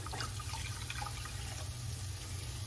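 Chicken broth is poured in a continuous liquid stream, a steady close splashing and gurgle lasting the whole moment.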